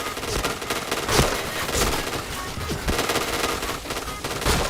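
Rapid gunfire in a shooter video game, dense bursts of shots with sharp cracks, loud and continuous throughout, with faint voices now and then.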